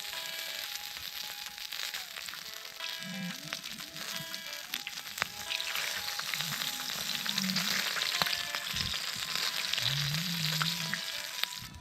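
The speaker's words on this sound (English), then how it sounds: "now you can see they've been frying nicely in the oil now for a large little bit" Food sizzles and crackles steadily in hot oil seasoned with salt and mixed herbs, a continuous close frying hiss with occasional pops and faint stirring, no voices.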